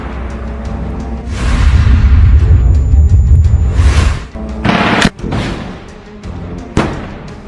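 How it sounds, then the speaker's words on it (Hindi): A rocket fired by a fighter hiding in rubble at a building during urban combat in Gaza: a loud, sustained rumbling roar with a rising whoosh, then several sharp bangs and cracks of gunfire trailing off. "ये लड़ाका मलबे में छिपकर इस रॉकेट को सामने की एक बिल्डिंग पर फायर कर देता है।"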